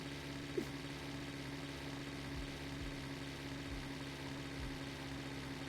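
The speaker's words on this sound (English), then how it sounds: "Not when you go to the back camera and hear the engine sound all fucked" A car engine idles in a video game with a low, steady hum and faint rumbling throbs, quiet and continuous, with no one talking.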